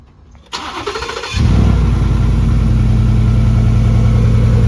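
Car engine cold start, a short cranking whir followed by the engine catching and settling into a loud, steady, close idle that continues to the end.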